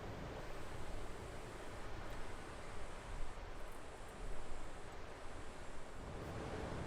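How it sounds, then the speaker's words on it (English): Strong wind blows outdoors on a hike, a steady, dense roar of rushing air with gentle swells and gusts, continuous and fairly close, with no one speaking. "It's starting to get really windy out there."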